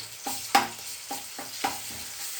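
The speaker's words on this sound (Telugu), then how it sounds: "అల్లం వెల్లిగడ్డ పేస్ట్ వేసి మంచిగా కలుపుకోవాలి." Ginger-garlic paste is stirred and fried in a pan for a tomato curry. A spoon scrapes in rhythmic strokes over a steady soft sizzle, close by, and no one speaks.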